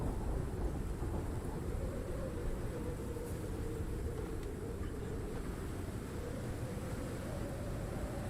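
Constant low rumbling roar of a thunderstorm with heavy rain in the survival video game Icarus, a dense steady wash of deep noise filling the whole stretch without distinct separate claps.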